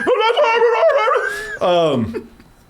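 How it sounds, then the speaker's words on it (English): A dog on a film soundtrack gives a close, loud series of whining yips and a wavering whimper-howl over about two seconds, with other film sounds mixed in. "isn't that the same dog from the last one?"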